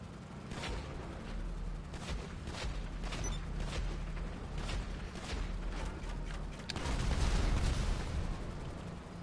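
Turret gunfire in GTA rattles off as a string of repeated muffled blasts over a low rumbling bed, growing louder and heavier toward the end.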